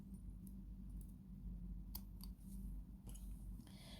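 Scissors snip beading thread during peyote beadwork, a few quiet, sharp clicks close by over a soft background hum.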